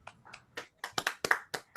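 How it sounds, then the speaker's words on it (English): Scattered handclaps from a small audience at a journal launch event, a dozen or so separate, uneven claps close by that never settle into a full ovation. "Round of applause for everyone."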